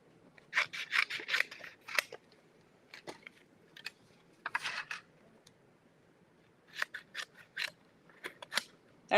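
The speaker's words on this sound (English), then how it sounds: "Pair of scissors." Scissors snip through paper in quick bursts of crisp cuts, close and fairly quiet, with short pauses between runs of snips and no talking.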